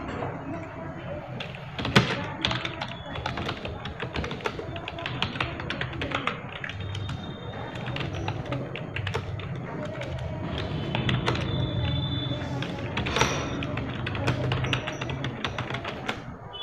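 Computer keyboard typing while entering formulas in Excel, with rapid irregular key clicks running steadily under someone speaking Hindi, close and moderately loud.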